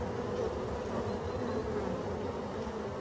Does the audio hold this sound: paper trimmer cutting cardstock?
no